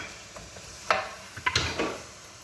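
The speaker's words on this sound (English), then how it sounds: "while our onions are sauteing" Soft sizzling of onions sautéing in butter in a pot, with a few scraping stirs and light utensil clinks, close by and fairly quiet.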